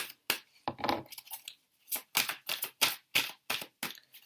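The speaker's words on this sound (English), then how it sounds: "Sometimes when I shuffle, it just... the cards catch on each other." Tarot cards being shuffled in quick, uneven bursts of riffling and slapping, catching on each other, close and fairly loud, with brief pauses between.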